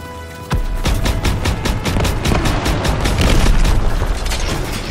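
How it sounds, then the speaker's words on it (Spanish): Constant heavy gunfire in the World War II shooter Call of Duty WWII: a dense, loud barrage of rapid shots and booming blasts that never lets up. "¡Uno sigue disparando!"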